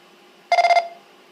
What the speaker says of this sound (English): and that's our courtesy tone